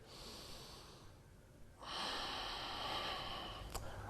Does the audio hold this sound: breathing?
yes